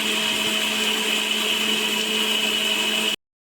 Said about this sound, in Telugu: ఈ బియ్యాన్ని సన్నగా వాటర్ వేసి పేస్ట్ చేసుకోవాలి, గ్రైండ్ చేసుకోవాలి